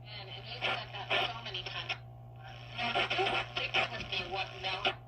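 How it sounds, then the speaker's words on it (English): A loud, steady mains hum comes from the speaker of an RCA Radiola 33 vintage radio with a shorted power transformer, droning continuously beneath someone talking close by. "I'm getting a loud hum out of the speaker."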